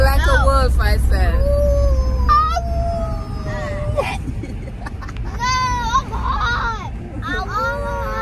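People imitate wolf howls with their voices, rising and falling wavering cries one after another, with children's chatter and babble between the howls.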